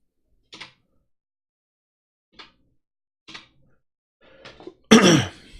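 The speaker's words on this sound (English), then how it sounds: "didn't mean to cough in your ears." A few small isolated clicks and rustles in near silence, then a single loud, close cough bursts out.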